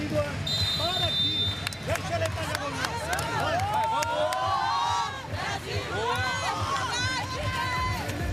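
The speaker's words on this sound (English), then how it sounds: "the crowd building and building here on day 10 of the 2024 Paralympics" Crowd cheering at a women's Paralympic sitting volleyball bronze medal match between Canada and Brazil in Paris, a loud continuous roar with shouts and chants rising and falling around on-court calls and a commentator's voice.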